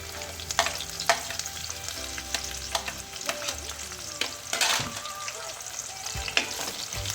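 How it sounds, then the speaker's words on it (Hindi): Sliced onions frying in hot oil flavoured with garam masala over a medium flame, a dense steady sizzle with frequent stirring scrapes and clicks, close and without speech. "प्याज को हमने मीडियम फ्लेम पर गोल्डन ब्राउन करना है"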